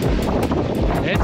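Strong wind at the Conch Inn Marina in Marsh Harbour, gusts near 45 knots buffeting the microphone in a loud, constant roar with rushing bursts, while a person talks over it.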